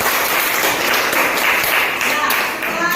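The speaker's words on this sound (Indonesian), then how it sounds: "Beri tepuk tangan dulu." A classroom of students applauds at the close of a lesson, a dense, steady patter of clapping that fills the whole moment with a loud, even texture and a slight taper near the end.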